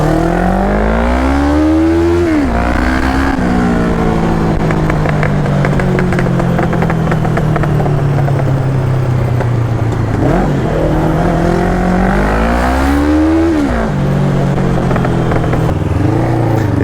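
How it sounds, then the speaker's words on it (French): A Honda CB500 motorcycle with an Akrapovic exhaust revs loud and close, the engine note climbing and falling through several throttle blips over a steady, throaty idle, with no talking. "Là, je vous fais écouter un petit peu le son de la moto."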